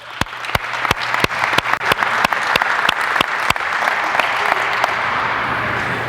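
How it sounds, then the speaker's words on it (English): Coaches at a basketball forum clap for players on a court, with a few loud, evenly spaced claps close by standing out over a broader crowd of applause that swells and then settles. "Give these guys a round of applause."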